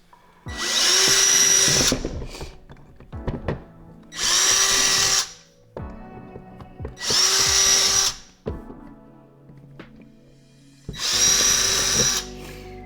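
Power drill boring holes through a kayak hull while installing hatches and rails on an Ascend 133X fishing kayak, four loud close bursts of about a second each with clicks, taps and handling noises between them.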